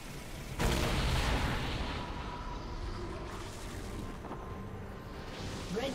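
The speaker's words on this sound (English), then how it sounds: "Red team's turret has been destroyed." Turret being destroyed in a League of Legends match, a loud booming blast at the start that fades into a sustained rumbling crumble with scattered game effects, no voices.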